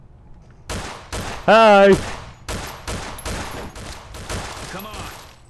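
Gunshots in Fallout New Vegas, about ten sharp loud reports spaced unevenly across the stretch, with a brief spoken voice in between.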